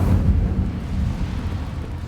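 Rumbling, low fire blast of an Incendio spell cast in Hogwarts Legacy, a dense roar that swells at the start and then churns steadily with no voices.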